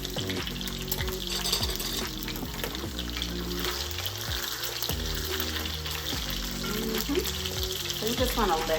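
Honey garlic glazed salmon fries in a pan over moderate heat, a dense continuous sizzle and crackle under a steady tonal hum, with occasional utensil clinks; a voice is faintly present.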